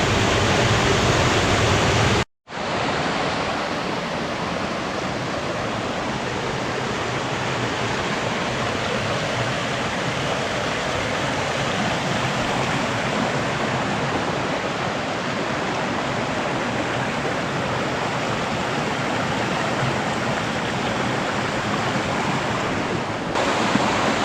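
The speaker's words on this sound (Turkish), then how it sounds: "burada da bir şelale oluşmuş yani bayağı bir kuvvetli olan bir şelale" A strong waterfall on the Datça coast roars in a dense, continuous rush of falling water, loud and close, with a brief cut near the start and no talking.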